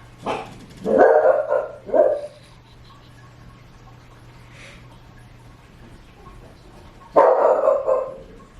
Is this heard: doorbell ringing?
no